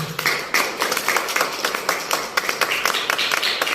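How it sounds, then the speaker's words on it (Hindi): An audience at a church service gives loud applause, with distinct rhythmic claps from a smaller group, close and sharp. "उसके लिए जोरदार तालियां"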